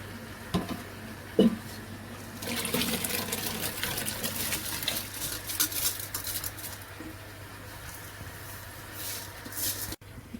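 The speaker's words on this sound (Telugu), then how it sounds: "ఇప్పుడు ఎసరు వచ్చిందండి దీంట్లో నానేసుకున్న బియ్యానికి వేసుకున్నాము" Soaked rice is poured into boiling water in a pot for chicken biryani: a steady bubbling and watery patter with a few pot clinks and splashes, close and moderately quiet, without talking.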